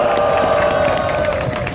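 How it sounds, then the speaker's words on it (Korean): A crowd at a Korean street rally calling for Park Geun-hye's resignation cheers and shouts with scattered applause, a steady loud roar of many voices throughout. "뜨거운 박수 부탁드리겠습니다."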